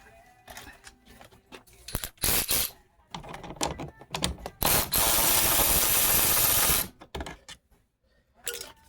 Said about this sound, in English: undo this little bolt